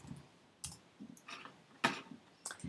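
A handful of separate clicks and keystrokes on a computer keyboard during a Google search, sparse and spaced out, close by and quiet with no voice over them.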